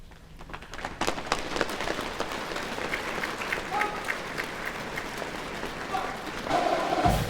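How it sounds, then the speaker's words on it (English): A crowd applauds at the 2015 Rex Ball in New Orleans for the Marine Corps Band New Orleans, steady clapping filling a large hall, swelling slightly louder toward the end, with an announcer's voice heard over it. "give a warm round of applause for the members of the Marine Corps Band New Orleans"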